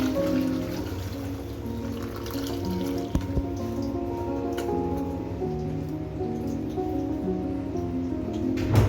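Hot water drains from briefly boiled cauliflower for gobi 65 through a strainer, a close, steady patter and trickle of running water with a few small knocks and no speech.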